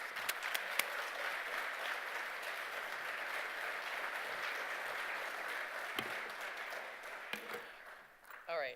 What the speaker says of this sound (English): I'd ask you to give Miss Renee a very rousing applause